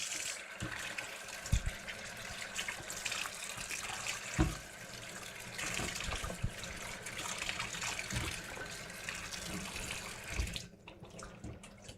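Canned beans and corn rinsed in a sieve under a running kitchen tap, a steady close splashing water stream that cuts off near the end.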